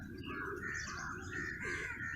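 Crows and other birds call near food outdoors, with steady overlapping chirps and occasional caws at moderate distance and no talking.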